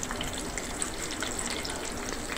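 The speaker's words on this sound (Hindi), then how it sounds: "क्योंकि मैं फ्राई पैन में कर रही हूँ तो मैं इसको ढकूंगी।" Peshawari chapli kebabs fry in a covered frying pan over a medium flame, giving a steady, soft, continuous sizzle and crackle with no talk.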